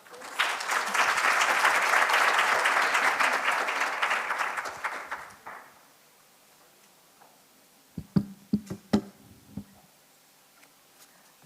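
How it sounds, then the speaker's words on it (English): A symposium audience applauds a biomedical research speaker, a loud, dense burst of clapping lasting about five seconds before it fades, then a few scattered knocks and handling sounds in a quiet room. "let's give our speaker a round of applause"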